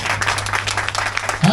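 A church congregation breaks into a short burst of dense applause, a close clattering of many hands, with a voice speaking over it.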